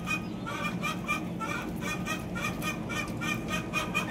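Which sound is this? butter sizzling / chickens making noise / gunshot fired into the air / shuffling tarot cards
chickens making noise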